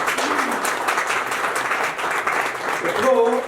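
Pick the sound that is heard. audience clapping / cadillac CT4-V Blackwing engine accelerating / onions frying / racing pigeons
audience clapping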